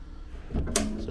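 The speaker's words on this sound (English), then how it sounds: "These drawers, which are a little spring-loaded." Spring-loaded drawers closing in a Sun Princess cruise cabin, a single quick thud followed by a sharp close and brief rattle, near and moderately loud, with no talk.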